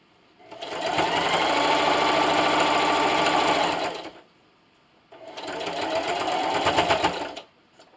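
A sewing machine stitches a pillowcase with a quarter-inch seam: two bursts of rapid, even needle chatter, the first about three and a half seconds long and the second about two, with a brief pause between, close and fairly loud.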